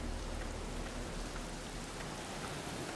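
Rain falls steadily in the Black Mirror video game, a dense, even hiss of drops pattering on surfaces without pause, with no voices heard.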